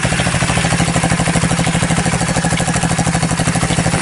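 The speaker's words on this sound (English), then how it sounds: "Got me new bike running." A pit bike engine runs close and loud, a rapid even thudding idle with a clattery mechanical rattle that holds steady throughout without revving.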